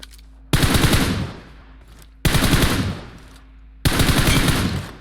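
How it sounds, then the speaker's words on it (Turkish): Three loud, close bursts of automatic gunfire from a machine gun in the mobile battle royale game PUBG Mobile, each lasting over a second and separated by short pauses. "Nere sıkıyor bu ya?"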